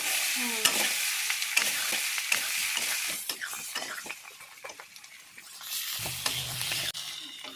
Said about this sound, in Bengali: এটা ভালোভাবে ফ্রাই হবে কারি পাতার সাথে